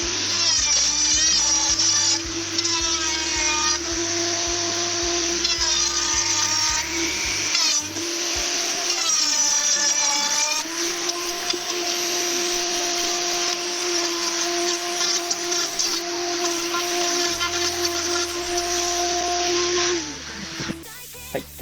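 A power tool shaves about 4 mm off a strip of paulownia wood for a campervan bus step, with a dust collector nozzle taped close by; a loud, steady whine runs for about twenty seconds, rising and dipping in pitch with the cut, and no one talks.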